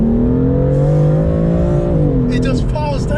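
A tuned 542 bhp BMW M4 pulls hard with a rising, close engine roar, then a sharp shift near the end with crackling overrun as the revs drop.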